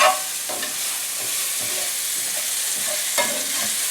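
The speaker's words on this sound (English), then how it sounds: "if they're not all touching the pan, you can stir it up a little bit like these over here" Pork loin chops sizzling loudly in a hot pan, with a steady frying hiss and occasional scraping from stirring close by, and no voices.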